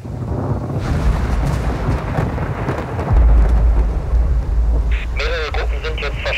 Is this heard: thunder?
yes